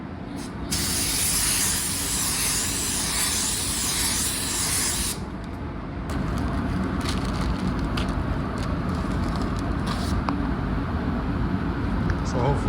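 Spray gun applying a pearl coat onto a spray-out card inside a paint booth, giving a loud, steady hiss that cuts out briefly and resumes, close up.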